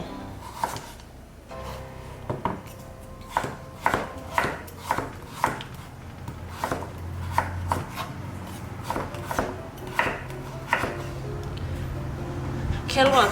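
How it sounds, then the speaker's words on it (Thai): A knife cuts jicama on a cutting board into long sticks, with a steady series of sharp, close chops and knocks at an irregular rhythm, some softer scraping between strokes. "เราจะหั่นเป็นแท่งยาวๆ"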